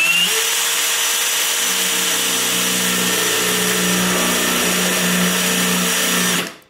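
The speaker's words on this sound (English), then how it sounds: "So line it up wherever you like and just start drilling away." A power drill whines continuously at close range, boring steadily into a kitchen countertop before cutting off abruptly at the end.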